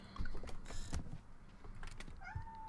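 A cat meows in the Coral Island farming game, short game-style mews over busy background sound and music, moderately quiet.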